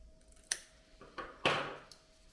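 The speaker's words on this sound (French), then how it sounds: "On coupe au niveau des angles." Paper being snipped with scissors at the card corners for a scrapbook album, a few short crisp cuts spaced apart, close and fairly quiet.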